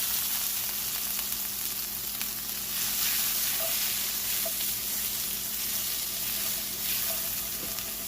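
Leftover steak sizzles and fries in a hot pan for a keto broccoli stir fry, a steady, dense crackling hiss that stays close and even with occasional faint pops.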